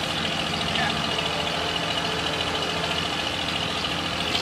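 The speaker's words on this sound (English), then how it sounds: "From the Gateway of India, we take a ferry to the famous Elephanta Caves." A ferry's engine drones steadily on a harbor ride from the Gateway of India to the Elephanta Caves in Mumbai, a constant mid-pitched throb with a broad wash of wind and water noise.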